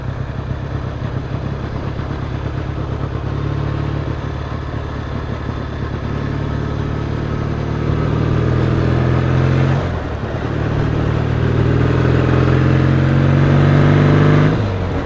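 Triumph T140 motorcycle under way, its engine note rising steadily through the gears as it accelerates, a loud, close, continuous thrum with a brief dip around a gear change and no stumble, no talking.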